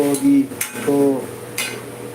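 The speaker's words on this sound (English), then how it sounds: "So I'm going to be stirring this again" A metal spoon scrapes and clinks against a pot of South Indian sambar with vegetables, curry leaves and tamarind, giving a few sharp strokes over a low kitchen hum.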